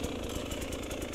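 A GasGas EC 300 2022 two-stroke enduro motorcycle engine runs steadily, with a dense, buzzy drone and a constant loudness across the whole brief stretch.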